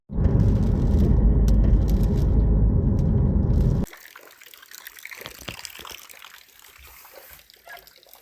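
Water runs loudly in a steady rush from a Parkside outdoor shower for a few seconds, then cuts off, leaving faint trickling and quiet background sounds.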